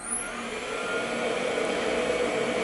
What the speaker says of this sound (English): the motor is running at 10 Hz. It's a 50 Hz motor